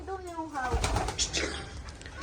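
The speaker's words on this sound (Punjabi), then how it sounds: "ਲਓ ਜੀ ਆ ਸੀ ਆਪਣਾ ਪਹਿਲਾ ਕਬੂਤਰ ਚੱਲ ਵੀ ਅੰਦਰ" Fancy pigeons coo in a new coop just after being released, with soft, repeated throaty calls close by and voices talking underneath.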